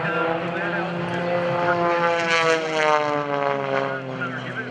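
A 300-horsepower propeller aerobatic plane performs at an airshow, its loud droning buzz holding steady while its pitch slowly shifts as it passes. Someone talks over it throughout.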